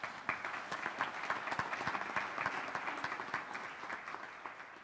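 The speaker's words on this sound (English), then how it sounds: "So how about a round of applause for those folks?" An applauding church congregation during a Sunday service gives a round of applause, a fairly quiet patter of many hands with some nearer individual claps standing out, continuing steadily throughout.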